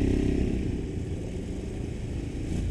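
A quad bike engine runs close by, a rough low rumble that swells slightly at the start and end, with no voices over it.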